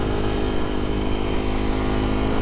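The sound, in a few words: Fantic Caballero Scrambler motorcycle riding through village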